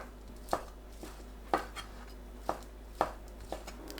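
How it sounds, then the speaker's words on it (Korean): A knife chops fish cake into small pieces on a board: five or six distinct, evenly spaced thuds about a second apart, close and clean over a low background hum. "어묵을 작게 썰어주세요"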